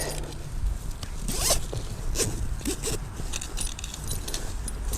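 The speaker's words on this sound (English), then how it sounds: "Zipper, I guess, to help with dumping out." Zipper being pulled along the shredder collection bag of an Echo ES-250 leaf blower, a close, scratchy rasp in several quick runs with fabric handling and rustling between them.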